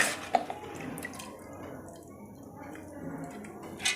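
Water drains and drips from washed urad dal being strained for mendu vada batter, a soft steady trickle with occasional louder drops close by and no talk.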